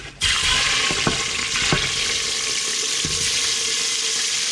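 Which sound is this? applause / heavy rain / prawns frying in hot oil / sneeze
prawns frying in hot oil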